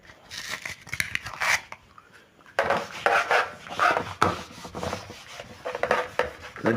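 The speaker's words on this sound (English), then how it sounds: "let me rub the board." An eraser scrubs across a classroom board in quick back-and-forth strokes, scratchy rubbing bursts with a short pause partway through.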